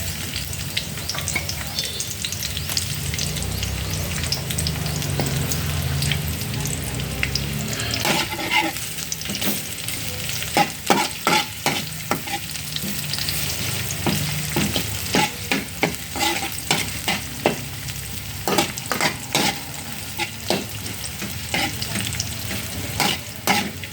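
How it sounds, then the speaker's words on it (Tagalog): Garlic sautéing in a pan for corned beef, with a steady sizzle and a run of sharp, rhythmic scraping clicks as a utensil stirs it, close and alone without talk. "Tamang halo-halo muna. Tamang gisa-gisa."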